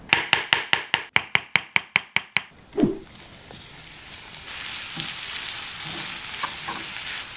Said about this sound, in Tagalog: Tapos isosotay naman natin yung mushroom.